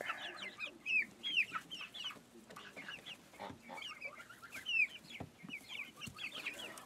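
Cuckoo chickens clucking in a loose flock, soft close clucks and chirpy calls overlapping in a steady stream, faint and unhurried with no talk.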